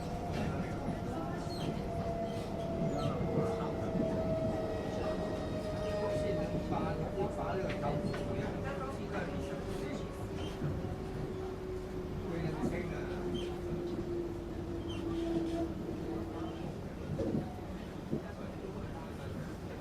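Inside a moving Singapore MRT train, a steady rumbling roar of wheels and motors fills the carriage, with a gliding electric whine that slowly falls in pitch and faint rattles throughout.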